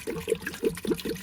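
Water glugs out of a plastic water bottle into a big stock pot holding turkey soup stock, pouring in uneven gulping pulses, close and moderately loud.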